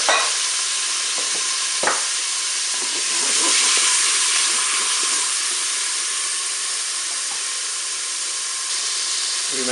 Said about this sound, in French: je vais faire revenir les oignons.